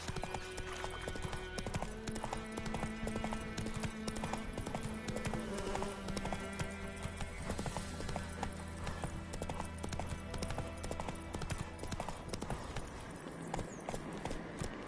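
Roach the horse from The Witcher 3 trots steadily, hooves clip-clopping in a continuous rhythm for the whole stretch over a dense, constant game soundscape.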